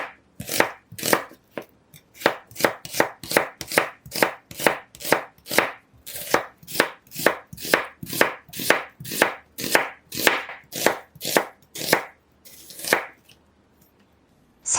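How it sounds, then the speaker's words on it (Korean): A halved onion being sliced into thin strips with a knife on a cutting board: a brisk, even run of about two dozen crisp, close chops, with a short pause near the end and no talking. "양파 1개는 반으로 자르고 채 썰어 주세요."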